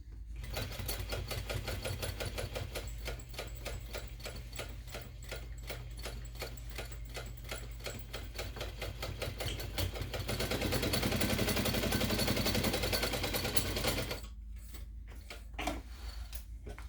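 A sewing machine stitches a messenger bag in a long, steady run of rapid rhythmic needle clatter that grows louder near the end, then stops abruptly, leaving quieter handling clicks.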